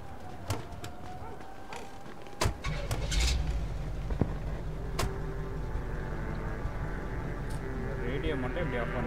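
Car engine starting and then idling steadily in Mafia II Definitive Edition, heard close with sharp clicks and thumps at first, then a constant low hum with faint bird chirps and speech underneath.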